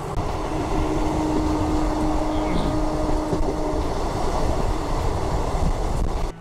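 An Indian passenger train on the run from Malda toward Kharagpur, heard from an open train door: a steady, loud rolling rumble with faint rhythmic wheel clatter and no voices.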